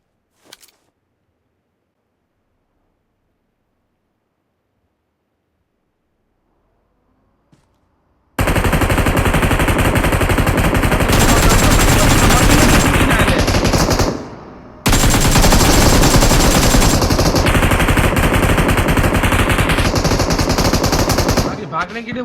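Sustained automatic gunfire in the battle game BGMI: after a near-silent start with a couple of tiny clicks, loud, dense rapid-fire bursts dominate, pausing briefly midway before resuming at full intensity until almost the end.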